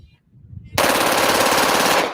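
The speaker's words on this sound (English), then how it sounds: "Rapid fire, multiple rounds let loose with a single squeeze of a trigger." A gun converted with an auto sear fires a rapid automatic burst: a loud, close, sustained stream of shots that starts abruptly and runs unbroken for well over a second before cutting off.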